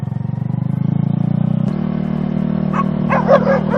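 A steady engine drone fills the background near a parked camper after rain, then a dog lets out a quick burst of several barks close by.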